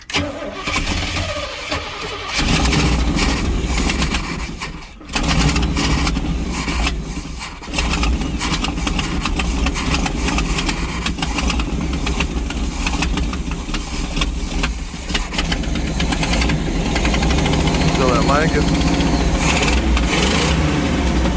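Motorhome engine running unevenly while its fuel line sucks air, a loud, close, rough mechanical drone with surges and brief dips, no voices.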